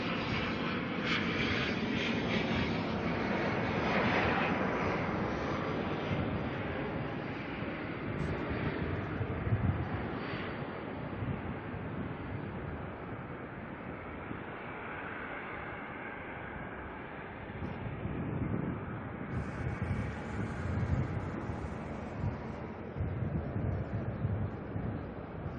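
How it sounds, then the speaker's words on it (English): A jet airliner, a Boeing 757, passes overhead at Auckland Airport at dusk, its broad engine roar swelling and fading across the whole stretch, with wind buffeting the microphone. "We've got the 757 that'll be over the top of us soon."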